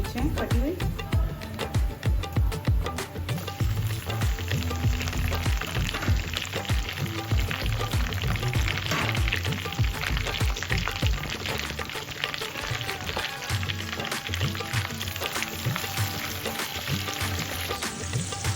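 Curry leaves and green chilies fry in hot oil with cumin, a steady crackling sizzle that runs unbroken and fairly loud, with pops and spatters throughout and no talk.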